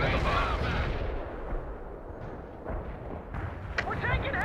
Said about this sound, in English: Carpet bombing underway.